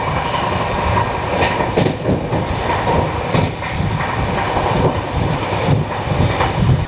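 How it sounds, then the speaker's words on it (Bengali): A special train hauled by a WAG 7 electric locomotive rumbles past close by on its way from Secunderabad to Shalimar, a loud steady roar of wheels with clickety-clack rail beats throughout and no talking. "স্পেশাল ট্রেনকে টানাচ্ছে WAG 7 দিয়ে।"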